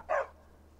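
A single short dog bark in the Skyrim video game, sharp and close, followed by quiet low background hum.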